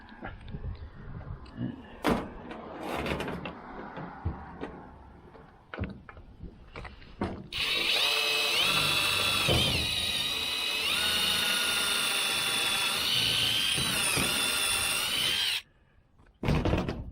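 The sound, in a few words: power drill drilling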